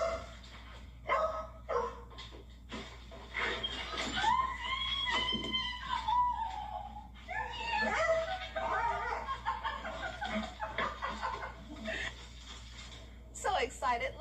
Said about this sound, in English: Astronaut Christina Cook reunited with her dog after being 10 days apart during her voyage to the moon.